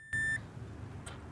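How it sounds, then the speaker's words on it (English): A voltmeter on continuity test while repairing an RV water heater gives one short, steady electronic beep of about a quarter second, clear against a quiet background hum. "Hear the beeping sound. That's how we know if we got good connectivity."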